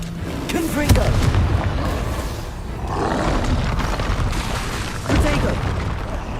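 Confringo fire-spell blasts in Hogwarts Legacy, deep booming roars that swell and rumble in bursts of game combat, with a player's voice calling out over the explosions.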